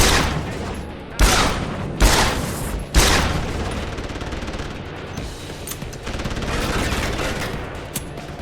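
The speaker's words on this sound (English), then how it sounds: "Someone's shooting!" Gunfire in Deus Ex Human Revolution, three loud, sharp shots about a second apart followed by a rumbling, echoing tail and scattered fainter shots.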